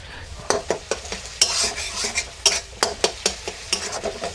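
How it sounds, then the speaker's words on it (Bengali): A spatula repeatedly scrapes and clacks against a pan as a tomato masala for mushroom masala is stirred and fried, the sharp, irregular strokes rising over a soft background sizzle. "এই দেখুন টমেটোটা দেওয়ার পরে মশলাটাকে খুব ভালোভাবে কষিয়ে নিয়েছি"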